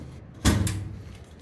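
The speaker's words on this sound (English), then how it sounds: "The door opens like so." Door on a box housing the LP tanks and pump of tankless water heaters, opening with a single clunk and short rattling scrape, fairly close, with nobody speaking.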